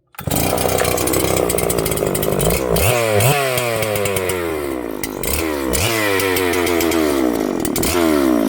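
A Husqvarna 562HTSS chainsaw runs loud and close at high revs for a bar-oiling test, its engine note rising and falling through several sharp revving sweeps with no pause.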